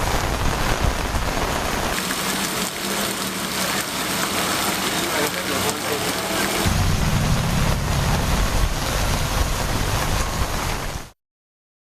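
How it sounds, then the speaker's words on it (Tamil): Heavy rain pours with strong wind in Rameswaram, a dense, loud, continuous roar of rainfall and gusts with no letup until it cuts off abruptly near the end. "ராமேஸ்வரத்தில் 1 மணி நேரத்திற்கு மேல் பலத்த காற்றுடன் கனமழை பெய்தது"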